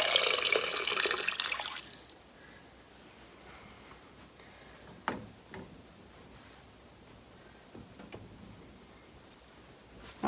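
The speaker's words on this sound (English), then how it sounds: "Now I'm going to add enough water just to cover the top of the potatoes." Water running from a tap into a pot of sweet potatoes being cooked for candied yams, loud for the first two seconds and then stopping, followed by a few faint clinks and taps in a quiet kitchen.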